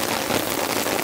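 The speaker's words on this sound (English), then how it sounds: "I just can't believe how thick and heavy the rain's coming down." Heavy rain pours onto a tent at a solitary campsite during a rainstorm, a dense, steady hiss close around with no breaks or other sounds.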